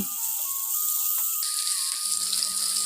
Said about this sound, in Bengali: এবার মাছগুলো তেলে ছেড়ে দিচ্ছি